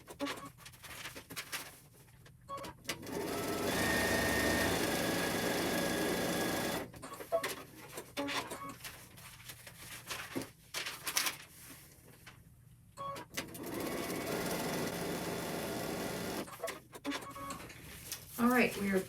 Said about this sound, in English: we are done sewing on line number 4